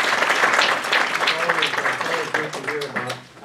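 Applause breaks out among the audience at a school board meeting, a dense patter of clapping under a speaker's voice, which carries on throughout and fades slightly toward the end.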